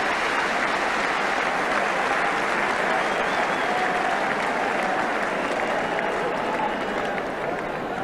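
Stadium crowd at Arsenal v Ipswich Town applauding a goalkeeper's save, steady, broad clapping that fills the ground, with a commentator's voice faint underneath.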